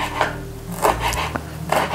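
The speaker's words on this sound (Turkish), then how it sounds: "İnce kıyım olarak yapacağım ben." A knife finely chops fresh dill and parsley on a board, making a few soft, irregular, close-up cutting taps and rubbing scrapes.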